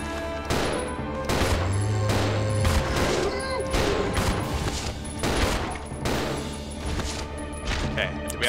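Video game gunfire from Resident Evil 0 HD Remaster, a series of loud, close shots in a steady irregular rhythm over a droning background, with a player talking between them.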